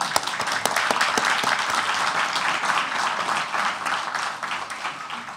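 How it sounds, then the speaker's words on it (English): An audience applauds to welcome a guest lecturer at a talk on the Eichmann trial, dense sustained clapping from a large crowd, loud and continuous before gradually thinning out. "Let's give you an applause."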